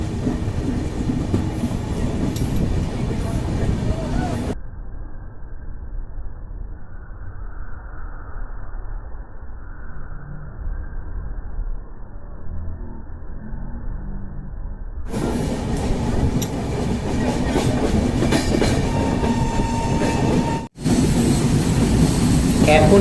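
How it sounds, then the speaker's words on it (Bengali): The Saraighat Express from Howrah to Guwahati crossing the Farakka bridge, a continuous rumbling roar of the train with steady clickety-clack of wheels on rails, loud and close throughout. "এখন ট্রেন পাস করছে ফারাক্কা ব্রিজের ওপর দিয়ে।"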